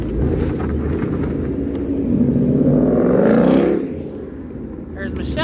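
A Ford Mustang S197 rumbles loudly as it accelerates during a club cruise, a deep, swelling engine roar that builds and then fades as it passes, with a person talking over it.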